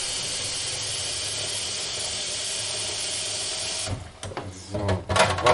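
A Miele CM6 coffee machine, noted for squeaking loudly, runs with a steady mechanical whir and hiss for several seconds, then breaks into uneven clicks, rattles and squeaky bursts, close and fairly loud with no voices.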